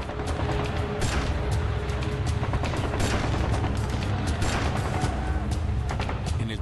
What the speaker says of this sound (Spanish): Y devuelven el fuego.